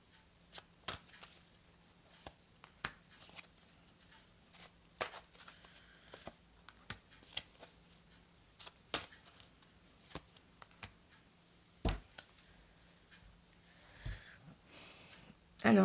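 Tarot cards being shuffled by hand before four are drawn, a run of crisp riffling flicks and slaps in irregular bursts, close and fairly soft, under a low steady hum.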